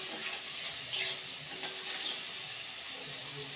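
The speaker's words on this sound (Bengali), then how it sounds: "কাঁচা লঙ্কা আর রসুন বাটাটা দিয়ে আমি একটু কষিয়ে নেব।" Garlic and green chili paste frying in a pan with shrimp and chickpeas, a steady soft sizzle and hiss with faint stirring scrapes, close but quiet throughout.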